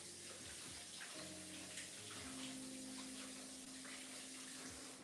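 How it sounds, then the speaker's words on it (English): Tap water runs steadily into a sink during hand washing, a continuous broadband hiss with shifting pitched tones from the flow, close and fairly loud throughout with no talking. "I'm going to wash my hands"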